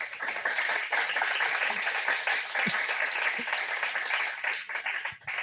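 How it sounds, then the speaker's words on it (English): An audience at a meetup applauds a speaker with sustained clapping that stays dense and fairly loud throughout, thinning slightly near the end. "So everyone give Keegan another round of applause."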